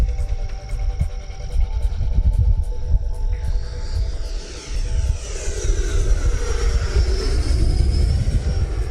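A Horizon Hobby RC model jet with a 22.5-volt electric power system flies aerobatics. It makes a loud, continuous whooshing whine that swells and sweeps in pitch as it passes overhead.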